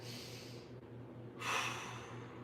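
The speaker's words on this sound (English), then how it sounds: "One more big breath." Deep breath during a slow mobility stretch, a soft steady exhale followed by a sharper, louder intake, close and faint with no talking.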